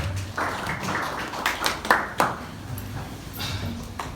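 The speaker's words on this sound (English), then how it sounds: "Can you clap hands then sit down?" A church congregation claps hands in a brief, scattered burst of claps, fairly faint and uneven, with a few sharper claps standing out.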